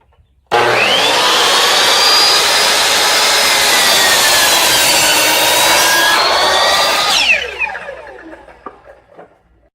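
A power saw cuts through wood boards for a porch deck gate, one loud continuous cut lasting several seconds at close range, then spinning down and fading out, with no talking.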